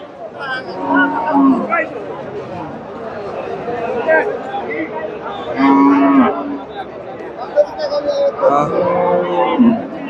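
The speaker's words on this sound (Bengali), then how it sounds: "সুন্দর একটা গাভী বাচ্চা" A milking cow with her calf moos repeatedly at a busy cattle market in Bogura. The low calls come loud and close, several times over, with people talking in the background.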